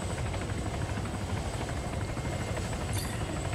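Hummingbird helicopter hovering in Arma 3, a steady close rotor thump and turbine whine with rapid, even blade chop throughout, loud and constant with no speech.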